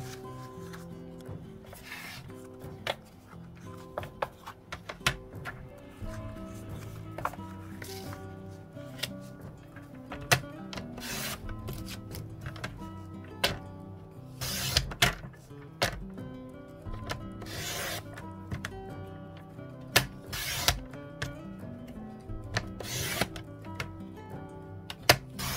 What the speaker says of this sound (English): So I'm just sliding along and cutting as I go.